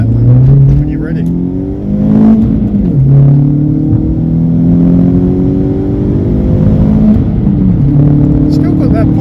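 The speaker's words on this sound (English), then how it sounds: "hopefully, you know, the camera picks up the turbo flutter and everything like that" A Mk4 VW Golf GTI with a turbo, driving with a loud steady engine drone that rises and falls in pitch through the gears, close to the car, with people talking over it.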